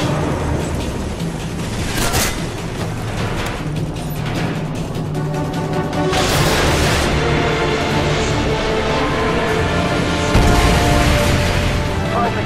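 Missiles strike a friendly helicopter in the war video game Modern Warfare 2, with several heavy booming blasts rising out of constant loud battle noise.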